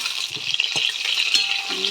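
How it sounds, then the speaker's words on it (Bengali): Pointed gourd (potol) fries in hot oil, giving a steady close hiss and sizzle with faint stirring clinks, continuous and fairly loud. "বন্ধুরা দেখো আমার পটলটা ভাজা ভাজা হচ্ছে"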